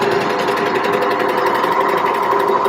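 A sewing machine runs steadily through a knit project, a continuous close whirring hum with fast even stitching that carries on without a break and with no talk over it.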